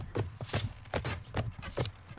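Horse hooves in the Mount & Blade Warband video game, a repeated clopping rhythm of hoof strikes with scuffling between them, moderately loud and close, without talking.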